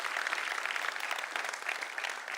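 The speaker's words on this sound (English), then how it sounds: "Big applause for you." An audience at a solar racing team's car reveal breaks into dense, continuous applause for a speaker, loud and close throughout with no talking.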